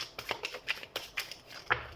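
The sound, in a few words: tarot cards being shuffled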